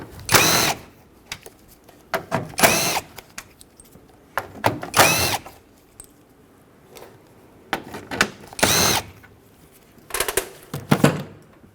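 Power tool bursts loosening the four 10mm headed bolts along the top of a 2011-2016 Ford F-350 Super Duty grille, several short whirring runs with pauses between, close and fairly loud.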